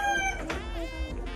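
A chicken on a farm crows and clucks nearby, loud and drawn out, with rural background noise.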